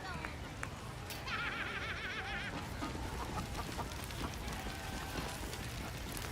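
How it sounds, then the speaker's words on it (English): Chicken clucking in the fantasy role-playing game Baldur's Gate 3, a quick run of bright, rapid clucks early on over a steady bed of rain-like ambience and game sound, with a few scattered clicks afterward. "There's a goblin chasing a chicken."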